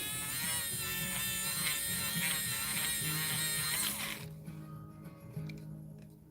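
An electronic cup burr whirs in a high, steady buzz as it rounds the end of jewelry wire, running evenly for about four seconds before cutting off into quieter handling noise.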